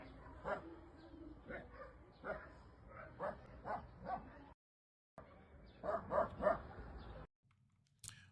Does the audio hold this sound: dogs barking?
yes